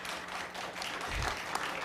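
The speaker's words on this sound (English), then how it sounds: "go right ahead and clap" Scattered applause from an audience at a city meeting, a brief, fairly quiet patter of clapping with a soft thump partway through.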